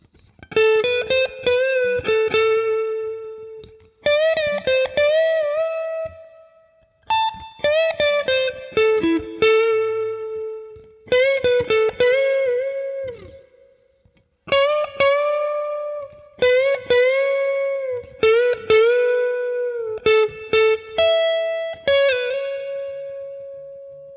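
Electric guitar solo from a song, played as a string of clean, bright melodic phrases with bends and sustained notes, separated by short pauses and carrying light reverb, with no voices.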